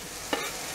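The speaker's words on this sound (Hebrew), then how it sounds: "מדי פעם לערבב" A spoon gives a single brief scrape while stirring tomato soup with vegetables in a pot, over a steady soft sizzle from the stove.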